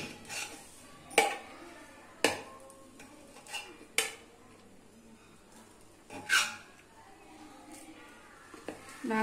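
Rajasthani khichda being served from a pressure-cooked pot onto a plate, with a few sharp metal clinks and scrapes of a spoon against the pot spaced out over quiet kitchen background.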